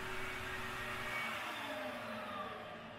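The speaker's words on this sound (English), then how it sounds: "I used a 20mm mark on the domino to make the mortises." A domino joiner cutting mortises in wood, a steady whirring motor drone with a grinding cut that stays even and fairly quiet, then trails off near the end.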